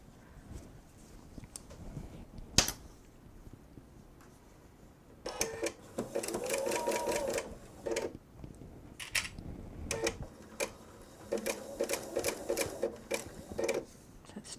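Sewing machine stitching a jelly roll quilt, running in short bursts of rapid mechanical clatter separated by pauses, close and moderately loud, with a sharp click early on and no talking.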